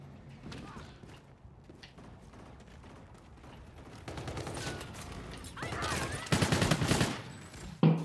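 Rapid automatic gunfire in Call of Duty: Infinite Warfare, quiet at first, then loud sustained bursts later with mechanical clanks, and a brief spoken remark.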